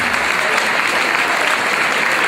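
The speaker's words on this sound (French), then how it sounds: "On peut applaudir très très fort Pascal et Christophe." An audience at an evening live show breaks into dense, loud applause, a steady, unbroken clatter of many hands clapping throughout.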